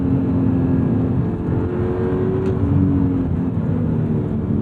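A 2009 Audi R8 with a naturally aspirated V8 and gated manual gearbox drones steadily and loudly from close by, holding a sustained engine note with slight shifts in pitch and no talking.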